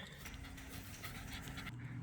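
A dog pants quickly and steadily at close range, a soft rhythmic huffing that is quiet and continuous over about two seconds, with no talk.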